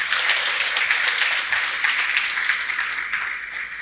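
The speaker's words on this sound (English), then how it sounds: "Please could we give him another round of applause." An audience at an annual banquet applauds steadily, with dense clapping that carries on for a few seconds and slowly tapers off near the end.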